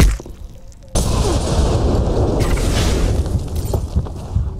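A grenade bursts in the shooter game Ghost Recon Online with a sudden loud boom after a quieter moment, then a long, heavy rumbling roar of debris that slowly thins out.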